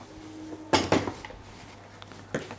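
A saucepan of sugar syrup for Christmas entremets is lifted off the stove, giving two quick metallic clanks close by, then a quieter knock a moment later in a kitchen.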